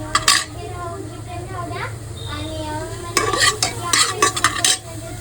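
Onion sautéing in a hot pressure cooker for goat paya soup, a spoon scraping and stirring over a soft sizzle, with bursts of metallic stirring near the end and a voice briefly audible.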